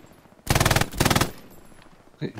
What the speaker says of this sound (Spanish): Esos tiros de dónde son y a dónde van.